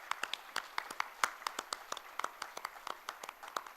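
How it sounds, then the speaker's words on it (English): Sparse clapping from an event crowd at a programming contest grand finale in Mumbai, honoring students: scattered sharp individual claps in an uneven rhythm, moderately close, with no voices over it. "Can we hear a huge round of applause for all the students also in the crowd today?"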